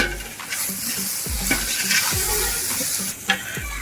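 Ginger-garlic paste and onions fry for a large batch of chicken biryani, with a loud, constant sizzle up close. A utensil stirs and scrapes the pot at a regular pace throughout.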